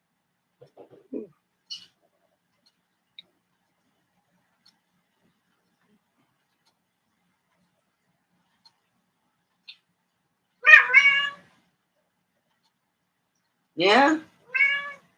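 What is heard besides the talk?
cat meowing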